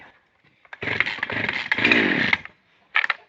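GRASSER GGS 3500 petrol chainsaw revving up close in a loud buzzing burst of about two seconds, dropping off, then a short second rev.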